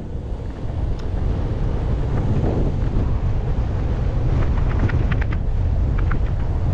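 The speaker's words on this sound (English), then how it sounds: "Coat is flapping again from the wind." Steady wind roar buffets the microphone while riding a Possway T3 electric skateboard, with a coat flapping in the wind and faint short rattles layered over the continuous rushing noise.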